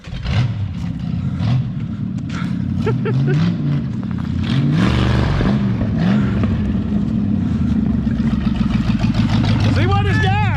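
A 1973 Mercury Comet GT engine revs and rumbles steadily while the car drives over dusty ground, the pitch swelling and dipping through turns, with people talking over it throughout.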